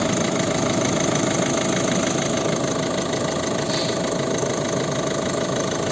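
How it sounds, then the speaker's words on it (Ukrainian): The 1.6-litre diesel engine of a 2009 Volvo V50 idles steadily nearby, a constant rough rumble with a rhythmic knocking clatter, loud and unbroken with no talking. "Ось робота двигуна."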